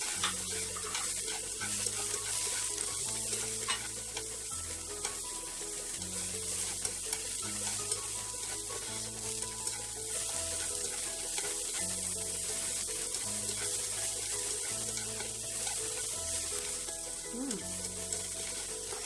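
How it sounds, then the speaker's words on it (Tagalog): Garlic, onion and ginger sauté in a hot pan for a Filipino ampalaya and pork liver dish, a steady crackling sizzle with occasional stirring scrapes, close and continuous, while a low droning hum runs underneath. "Garlic and the onion. Sabayin na natin."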